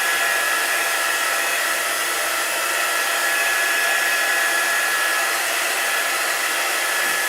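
A hair dryer blows steadily up close, drying chalk paint on a piece of furniture, a constant whooshing roar with no speech.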